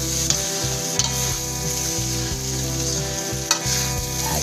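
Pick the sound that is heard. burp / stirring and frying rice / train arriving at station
stirring and frying rice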